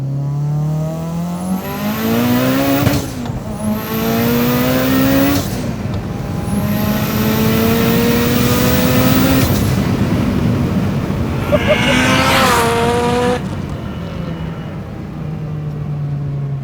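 An 800 hp Mitsubishi Evo on drag radials accelerates hard in a second gear pull toward about 140 mph, its engine note climbing steeply in repeated sweeps with high whistling, very loud and close from inside the car.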